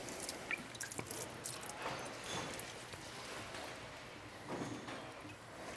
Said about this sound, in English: The last little bit of fluid's dripping down.